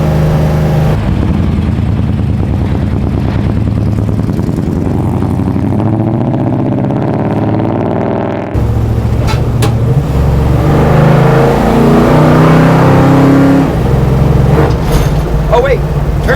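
A HEMI V8 in a 1968 Dodge Charger built as a 200 mph Bonneville land speed car drones steadily, breaks off briefly, then returns louder, rising and revving hard. Voices talk over the engine throughout.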